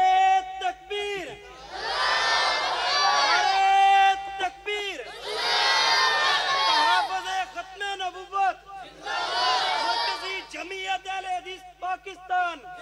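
A crowd at an evening religious gathering for devotional poetry roars a unison chanted response to a takbir call. It comes in three loud, sustained bursts with short pauses between, the shouting voices layered and echoing.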